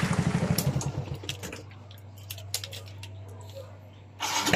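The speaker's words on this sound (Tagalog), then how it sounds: "Panarin natin ng motor ko ulit." A Suzuki Smash 115 motorcycle engine starts close by after a few cranking chugs, then settles into a low, even idle under light clicks and clatter.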